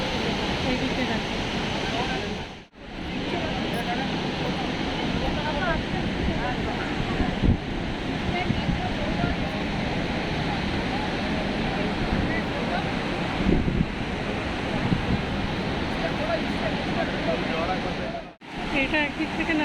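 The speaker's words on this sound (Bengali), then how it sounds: "এই যে ওয়াটারফলস এদিক থেকে শুরু হয়েছে" Barachukki waterfall cascading, a dense continuous roar of falling water filling the scene, with wind buffeting the microphone and brief dropouts.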